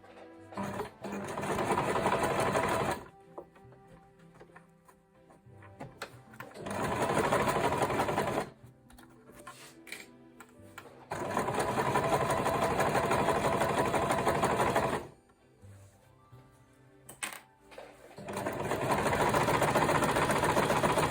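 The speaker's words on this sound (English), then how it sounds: "you can take it to the machine and sew in place" A sewing machine stitches a zippered make-up bag in several loud, steady bursts of rapid mechanical whirring, each a few seconds long and separated by quiet pauses, with one last short burst at the end.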